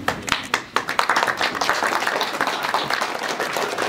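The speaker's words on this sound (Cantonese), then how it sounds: "掌聲恭喜張少明主席" A room of people at a Lung Kong association ceremony clap for newly elected chairmen, a dense burst of hand claps that stays steady from start to finish.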